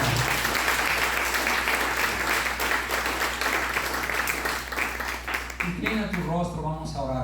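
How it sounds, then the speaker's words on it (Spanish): Congregation applause in a church service, sustained crowd clapping filling the room, loud and steady, with a voice speaking over it toward the end. "Dale un fuerte aplauso al Señor."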